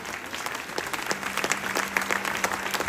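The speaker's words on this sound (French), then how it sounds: "On peut les applaudir aussi" Applause from a concert audience cheering an opening act, steady mid-level clapping throughout, with a faint sustained tone running under it.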